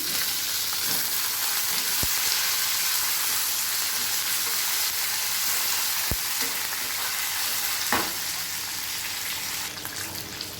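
Curry leaves dropped into hot tamarind rice tempering oil with the stove just switched off, a steady dense sizzle throughout with a few sharp crackles and spoon clinks, close and loud with no talk.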